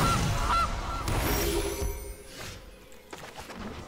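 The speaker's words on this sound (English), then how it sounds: "There's a goose." A goose honks in the card game MTG Arena, a loud cartoonish honk among game sound effects and chimes, with no voices.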